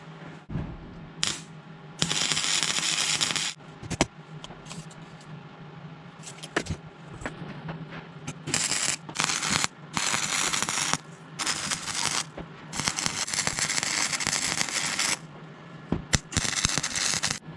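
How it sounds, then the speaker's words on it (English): Welding a bead around a motorcycle exhaust can on a 636: bursts of crackling, sputtering arc noise start and stop in irregular short runs, with brief clicks and pauses between welds and no talking. "tack weld, level it up, and then we'll run a small bead of weld around it"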